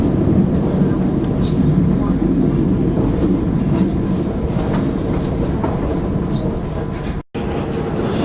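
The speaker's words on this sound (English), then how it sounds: "These trains in France just have the most boring motor noise of any train I've ever come across." A Bombardier AGC train runs on a line in France between Nîmes and Arles, giving a steady, dense rumble of motor and rolling noise that fills the whole stretch, heard from inside the train with a voice talking over it.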